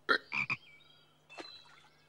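A frog croaks three times in quick succession, loud and close, followed by a quieter, softer call after a short pause; no one speaks.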